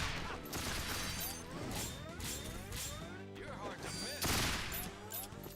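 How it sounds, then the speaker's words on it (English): Gunfire from the video game Resonance of Fate as barrels are shot, a dense stream of shots and crashing impacts layered with game music and effects, loud and continuous throughout. "I'm just gonna shoot those barrels"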